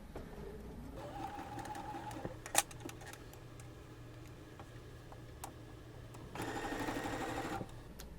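A sewing machine stitches a quarter-inch seam on a quilt block with a soft mechanical whir, then a sharp click, and a faster, louder run of stitching near the end, all close and quiet.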